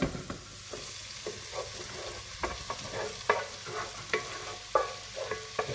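Onions added to garlic and bacon frying in a pot: a steady close sizzle broken by repeated scraping and clacking from a stirring utensil, with no voices.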